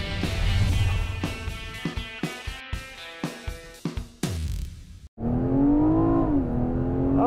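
A 2020 BMW 840i Gran Coupe with a smaller engine than the V8 versions revs loudly in a series of short bursts and gear shifts, then surges into a sustained, rising acceleration, close by and with no talking.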